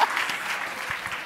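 Audience applause at a live talk event, a brief, steady wash of many hands clapping at moderate volume, with no voices standing out.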